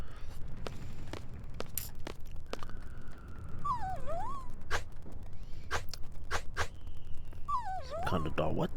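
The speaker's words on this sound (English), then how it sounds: "Some kind of dog." A dog whimpers in the video game Final Fantasy VIII, two short whining, wavering cries a few seconds apart over a busy background of clicks and game ambience, with a voice talking faintly underneath.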